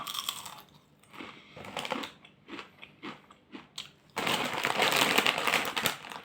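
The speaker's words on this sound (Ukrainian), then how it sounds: "Хрумаю собі чіпси." Lay's MAX ridged royal cheese potato chips crunch close to the mouth in a run of separate bites and chews, then a dense, louder stretch of crackling and crinkling, with no talk.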